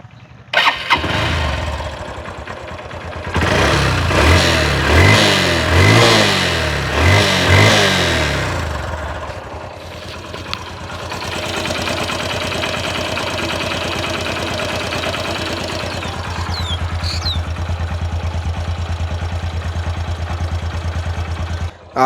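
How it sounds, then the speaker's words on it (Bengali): A used Honda Dream 110cc motorcycle engine cranks and starts with a few rhythmic turnover pulses, catches, then settles into a steady, close idle. "আর হন্ডা ড্রিম নিউর যেরকম সাউন্ড থাকে একদম অরিজিনালি সাউন্ড আছে"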